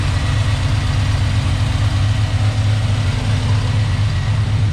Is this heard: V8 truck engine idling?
yes